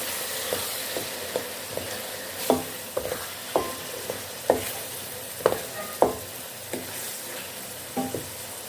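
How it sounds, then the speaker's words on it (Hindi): A spoon stirs chopped tomatoes into sizzling fried vegetables for a mixed vegetable pulao, with a steady frying hiss under about a dozen scraping strokes against the pot. "और इसको हम अच्छे से मिक्स कर लेंगे"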